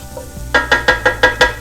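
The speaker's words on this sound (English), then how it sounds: "Let that sizzle." Spices and wine sizzle in a hot pan for Portuguese stuffed peppers, with six loud, evenly spaced sizzling bursts up close and no talking.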